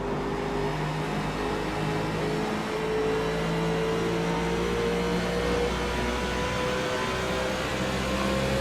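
A race car engine drones steadily alongside in the iRacing sim at Pocono, a sustained whirring roar with slowly shifting pitch that holds close and fairly loud throughout, with no talk.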